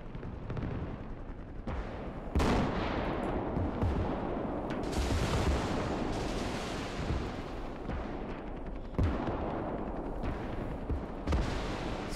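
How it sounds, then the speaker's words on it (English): Incoming counter-battery artillery in a war video game: dense, continuous booms and rumbling blasts with sharp bursts every few seconds, loud and close, no talking. "we're taking counter artillery fire"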